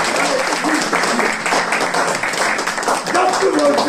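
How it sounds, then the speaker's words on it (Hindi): A church congregation claps loudly and steadily during a New Year sermon, dense continuous applause filling the hall, with voices mixed in beneath the clapping. "बहुत सारी तालियां"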